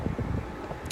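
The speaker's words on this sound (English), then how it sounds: "So before it gets too windy where I can't show you" Brief burst of outdoor wind buffeting the microphone, a low rumbling gusty roar with irregular thumps lasting under a second.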